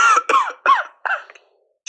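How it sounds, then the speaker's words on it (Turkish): A person coughs four times in quick succession, hoarse and close, each hack loud and choked before the fits trail into silence. "Şimdi seni çok kötü öksürteceğim var ya, boğazın böyle düğümlenecek."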